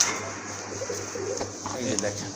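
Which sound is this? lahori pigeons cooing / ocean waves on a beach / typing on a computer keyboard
lahori pigeons cooing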